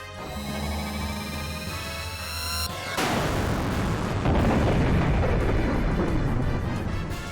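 A big cannon fires in the Xenogears video game: a tonal charging whine cuts off into a loud, sustained booming blast with rumbling, crackling explosions that swell and continue to the end.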